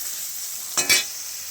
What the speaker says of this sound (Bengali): এখানে লবণ আর হলুদ দিয়ে আমি ভালো করে লাল লাল করে ভেজে নিতে হবে